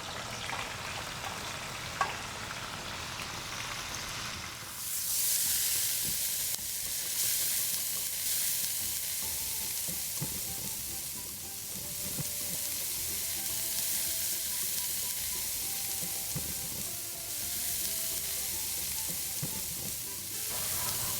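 Tofu frying in a little hot oil in a pan, a steady loud sizzle that swells sharply after a few seconds and holds, with faint stirring and clinks throughout and no talking.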